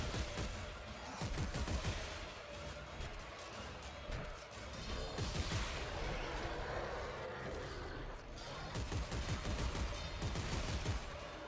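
Semi-auto weapon fire in Dead Space 3, with dense, continuous cracking shots and crashing impacts mixed into a loud, busy combat soundscape that keeps going throughout.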